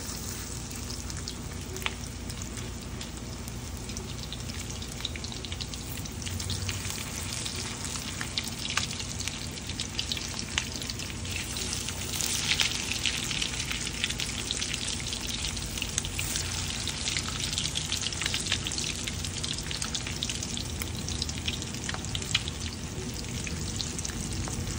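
Beef kebab frying in a pan and being stirred, giving a dense, continuous crackling sizzle like rain on a surface that holds steady and close throughout, no voices.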